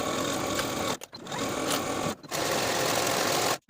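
A sewing machine or serger runs steadily along the back center seam of a slip dress, its loud, continuous whirring stitching broken by two brief pauses and a final stop, with no talking.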